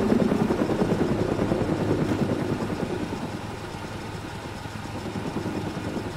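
Video game helicopter hovering nearby, with a steady rhythmic rotor chop over a low engine drone that fades slightly partway through, heard alone without voices.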